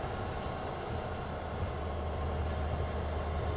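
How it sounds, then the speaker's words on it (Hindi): A diesel locomotive, seen among a line of Alco engines, runs with a steady low rumble and drone, continuous and fairly near, with no talking. "डीजल लोकोमोटिव का साउंड"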